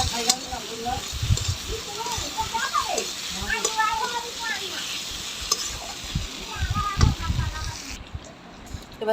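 A ground paste of ginger, garlic and dried chilli with cumin sizzles and spits as it hits a hot pan, loud and close, with stirring scrapes and someone speaking over it.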